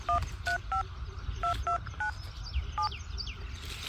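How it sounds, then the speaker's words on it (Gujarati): Telephone keypad tones beep as a number is dialed, about eight short evenly spaced touch-tone presses, fairly close over a faint outdoor background with bird chirps. "તમારા પાસે નંબર હોય તો ફોન કરો"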